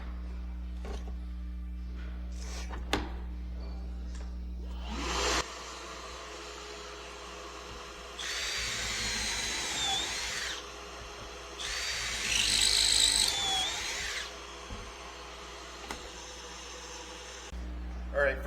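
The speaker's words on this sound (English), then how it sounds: "So I'm going to put some pocket holes on the edges of these" A power drill bores pocket holes into the edges of wood boards for a shoe rack, two or three close whirring bursts of a few seconds each, with bumps of handling noise between them.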